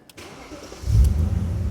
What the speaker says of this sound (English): let's check to make sure the car still starts